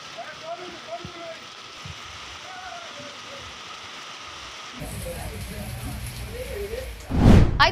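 Heavy rain falls steadily over Hyderabad, a continuous hiss that swells louder partway through, with a sharp burst of louder spatter near the end.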